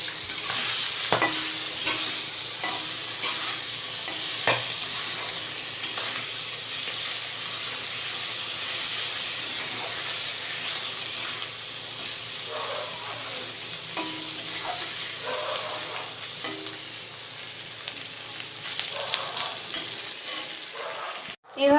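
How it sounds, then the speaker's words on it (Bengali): Spices and garlic paste frying together in a pan, a loud continuous sizzle with frequent scraping and stirring knocks of a utensil throughout, no voices. "দিয়ে দেবো সামান্য রসুন বাটা দিয়ে একসাথে কষিয়ে নেবো"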